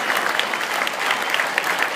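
Audience clapping at a keynote address, a steady dense wash of hands that holds at an even level through the whole two seconds with no voices over it.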